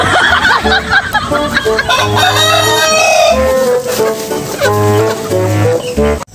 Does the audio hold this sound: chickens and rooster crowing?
yes